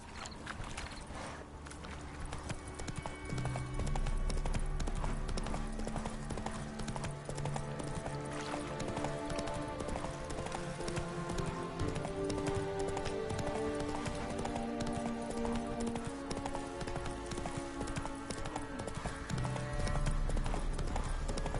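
The horse Roach galloping in The Witcher 3: Wild Hunt, with rapid rhythmic hoofbeats drumming steadily throughout, set under a musical score.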